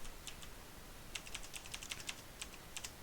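HTML code being typed on a computer keyboard: quiet, quick clusters of keystroke clicks with short pauses, faint against a low background hiss.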